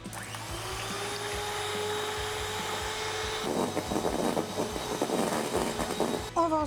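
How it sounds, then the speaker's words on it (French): Electric mixer whipping four egg whites into stiff meringue for a lemon Yule log, a steady motor whine with a churning, rhythmic texture that grows busier in the second half, with a faint voice near the end. "On va battre en neige 4 blancs d'œufs"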